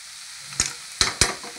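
Small prawns fry in a pan under a soft continuous sizzle, punctuated by three sharp scraping stirs close by within a couple of seconds.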